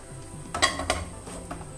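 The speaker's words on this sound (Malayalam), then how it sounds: "അതിനായിട്ട് ഇത് പാൻ അടുപ്പിലേക്ക് വെക്കാം" A metal pan is set down on a stovetop, giving two quick clanks close by over a faint background hiss.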